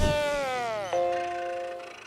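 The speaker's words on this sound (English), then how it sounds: "here's the sound effect from Spot Returns." Karen the computer's reboot chime from the SpongeBob episode Spot Returns, a Macintosh-style startup chord: a bright sustained harmonic tone that bends and settles into a steady ringing note, loud and alone, fading over about two seconds.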